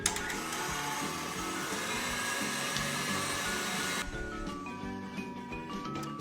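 An electric mixer whirs steadily as it beats pineapple upside-down cake batter, a loud continuous buzz that cuts to a quieter hum partway through.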